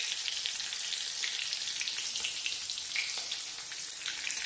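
Red chillies sizzle and crackle in hot oil while tempering for a potato and tomato curry, a steady dense fizz with small pops throughout, close and alone.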